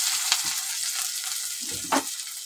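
Two medium-sized onions dropped into hot oil for a green bean dish, giving a steady close sizzle with a brief burst of crackling near the end, no voices.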